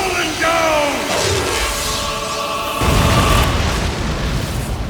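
A huge magical blast from the Fallen Dawn super-tier spell in an anime battle, a loud sustained roaring boom with rumbling debris that swells again partway through, with talk over it.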